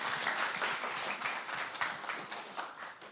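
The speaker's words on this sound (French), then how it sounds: "un tonnerre d'applaudissements pour Nianou" Enthusiastic audience applause welcoming the artist Nianou onto a French stage show, dense clapping with a few cheers, holding strong for a few seconds before slowly thinning.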